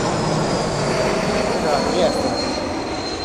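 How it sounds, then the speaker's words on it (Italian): A jet airliner, an ITA Airways Airbus A320neo from Trieste, landing at Rome Fiumicino airport, a loud steady roar with a faint high whine throughout while someone talks over it. "Questo l'aereo proviene da Trieste, un aereo colore azzurro."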